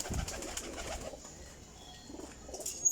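Teddy Ferozpuri flying pigeons coo in soft, low, rounded murmurs, a fuller burst early on and quieter coos later, at close range over faint background hiss with no talking.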